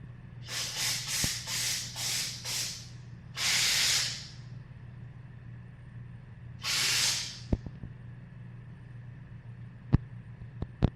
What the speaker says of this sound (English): So I have to blow it out with some brake clean and some compressed air.